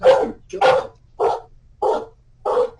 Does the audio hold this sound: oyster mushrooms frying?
no